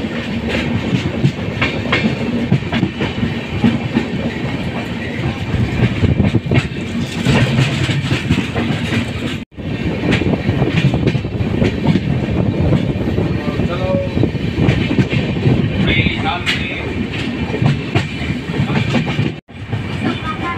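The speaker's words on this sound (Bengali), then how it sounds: "ওই দূরে পাহাড়ের পাশ দিয়ে আমাদের ট্রেন যাচ্ছে" The Kamrup Express train running through hilly country, heard from on board as a steady rumbling clatter of wheels on track with wind noise, continuous and fairly loud.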